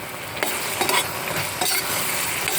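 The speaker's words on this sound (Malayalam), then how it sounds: "എന്നിട്ട് നല്ലപോലെ ഇളക്കി ഒന്ന് മിക്സ് ആക്കും" Vadukapuli lime pickle with roasted fenugreek and sugar being stirred in a pan, giving a continuous close sizzle with a few soft scraping strokes.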